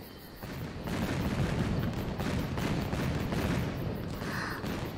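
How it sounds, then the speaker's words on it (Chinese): Fireworks burst overhead in a fantasy film scene, a dense, continuous crackle of popping explosions that swells after the first second and carries on steadily. "这叫烟花，我让谷中弟子从人间带回的"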